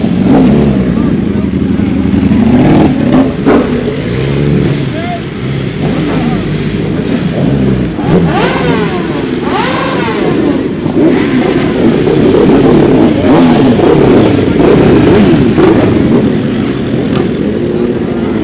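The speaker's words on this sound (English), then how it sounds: "I love this undertail exhaust" A motorcycle with an undertail exhaust revs repeatedly and loudly close by, its pitch rising and falling, with voices talking underneath.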